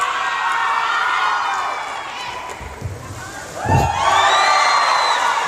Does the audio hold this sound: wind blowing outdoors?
no